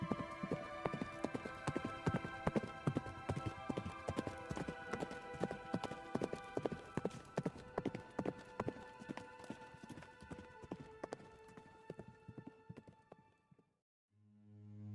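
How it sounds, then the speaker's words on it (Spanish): Horse hooves clip-clop in a steady, fairly loud rhythm on a hard surface for a long stretch as a mounted rider turns east, the beats fading out near the end before a low rumble rises. "Túrin tiró de las riendas y giró el caballo hacia el este, hacia Dor-lómin"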